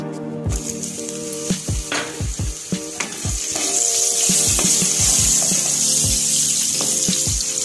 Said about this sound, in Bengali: এবার ওই তেলের মধ্যে আমি বেগুনগুলো ভেজে নেব